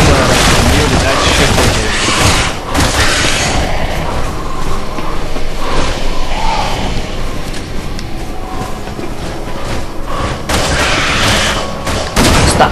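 Loud, continuous gunfire during Jake's campaign in Resident Evil 6, with booming shots and rapid bursts packed closely together, over heavy game noise and a cocooned J'avo enemy.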